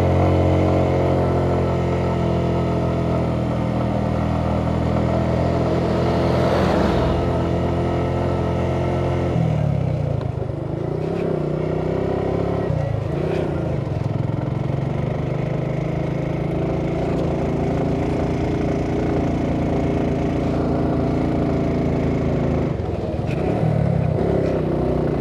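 A vehicle grinds up the steep final road to Sajek Valley in first gear, its engine loud and strained, holding a steady labouring drone throughout with slight surges in pitch.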